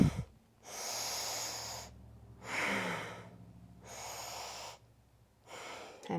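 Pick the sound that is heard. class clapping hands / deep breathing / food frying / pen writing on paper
deep breathing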